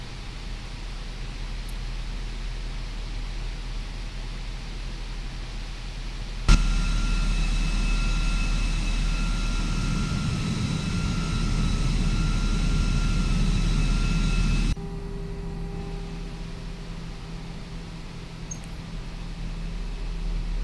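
Steady roar of Airbus A320 jet engines in the X-Plane 11 flight simulator, with a constant whine and hiss, rising in intensity for a stretch before settling back to a lower drone.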